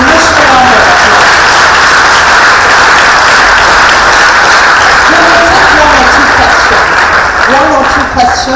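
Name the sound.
audience applause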